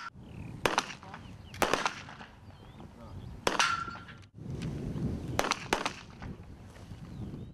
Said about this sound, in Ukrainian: військові стріляють з автомата на влучність